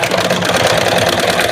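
A sewing machine stitches along the neckline of a princess-cut blouse. Its motor whirs in a fast, dense, continuous rattle, loud and close, with no talk.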